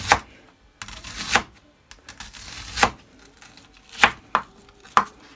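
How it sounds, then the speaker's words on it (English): A knife chops vegetables for broccoli soup on a cutting board in a home kitchen, with sharp, close, loud cuts coming in uneven clusters and short pauses in between. "So I'm just gonna cut them up a little bit fine."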